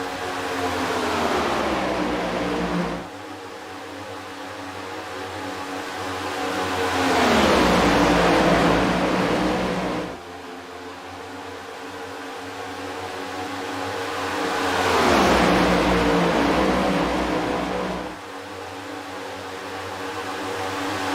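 Stock cars at full throttle on the Talladega track in a racing video game. The engine roar swells as each car passes close by, then drops to a steady drone in a repeating cycle, loud and continuous with no talking.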